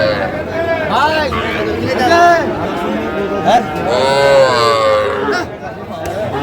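Cattle low at a busy livestock market in Shariatpur where Sahiwal and Friesian bulls and calves are traded, the moos rising over constant crowd chatter and nearby talking.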